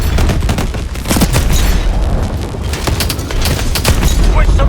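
Missiles and heavy weapons firing in the Call of Duty: Advanced Warfare video game, a dense, loud barrage of booms and rapid gunfire crackle under intermittent game voices.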